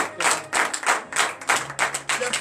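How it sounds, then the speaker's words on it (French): A congregation at morning prayer claps in loud, regular bursts of several hands together, rhythmic and close, with faint voices between the claps. "Donnez de vive acclamation à notre Seigneur."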